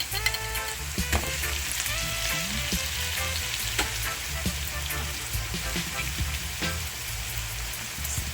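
Canned corned beef fries in a pot with a loud, steady sizzle and crackle close up, punctuated by occasional clinks and scrapes of stirring, with no talking.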